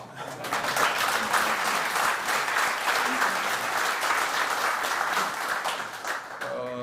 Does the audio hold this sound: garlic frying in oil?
no